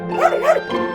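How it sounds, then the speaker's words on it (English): A dog barking from inside a cave, two quick yapping barks close together followed by a softer third, heard near and alone. "He then heard a bark from inside the cave."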